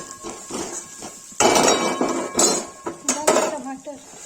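A spoon scraping and clanking against a kadhai while onions, turmeric and red chilli are stirred, giving irregular metallic knocks and scrapes up close, with a voice talking in between.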